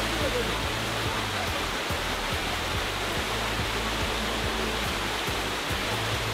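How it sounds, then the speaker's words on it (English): Steady, broadband roar of a waterfall in Virginia rushing continuously close by, with low rumble underneath and no other sounds standing out. "We made it to the waterfall."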